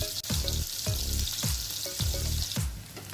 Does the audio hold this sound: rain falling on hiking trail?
no